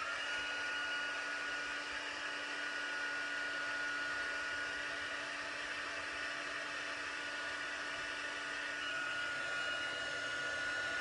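A handheld heat embossing tool blows hot air in a steady, close, unbroken whirring hiss with a faint whine, running unchanged for the whole stretch with no talk.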